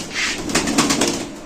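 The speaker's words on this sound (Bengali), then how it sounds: "দেখেন এই কবুতর আমরা একটু নিচে ছাড়ি ভাই" King pigeon cooing softly at close range, a few low murmuring coos in a short burst.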